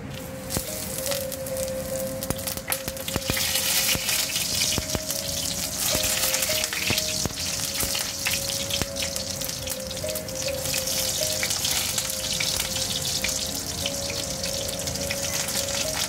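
Eggplant fries in a pan with a steady, continuous sizzle and crackle, close and fairly loud, with occasional clinks and a faint underlying hum.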